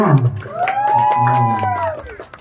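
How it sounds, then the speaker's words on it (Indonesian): Guests at a Sundanese wedding in Garut clap and cheer briefly while a voice calls out over the crowd. "mana tepuk tangan buat Kang Sandra"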